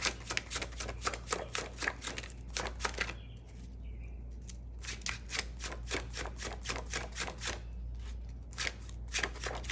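Tarot cards riffle and flick in quick rapid bursts, a brief pause, then more crisp shuffling, close and fairly quiet.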